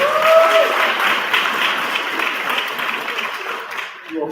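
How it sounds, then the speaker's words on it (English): Audience at the Mister and Miss Cheyney coronation ceremony applauds in a loud, sustained burst of crowd clapping that gradually fades toward the end. "Let's give them a round of applause."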